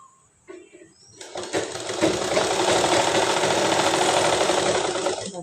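A sewing machine runs steadily as it stitches a plain seam in a semi-Patiala salwar with no pleats added yet, starting after a few light handling sounds and continuing as a loud, continuous mechanical whirr to the end.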